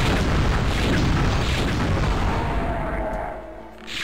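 Magic missiles powered up by the Tome of Power in the video game Hexen 2, a dense roaring barrage of booming blasts that fills most of the stretch and then fades briefly before swelling again.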